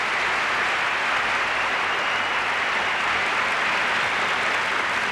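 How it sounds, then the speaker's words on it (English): An arena audience applauding after a pairs figure skating performance by Sandra and Val Bezic, a dense, steady wash of clapping from a large crowd, loud and unbroken throughout. "Rich applause for Sandra and Val Bezic"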